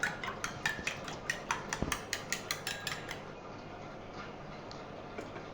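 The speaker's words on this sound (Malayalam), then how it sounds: "ഒരു സ്പൂൺ കൊണ്ട് നമ്മൾക്കിതുപോലെ ഒന്ന് നന്നായിട്ടൊന്ന് ഇളക്കി യോജിപ്പിച്ച് കൊടുക്കാം" A spoon stirs a milk mixture in a bowl with a quick, steady run of light metallic clinks for about three seconds, then the clinking fades to quiet scraping, close up and with no voices.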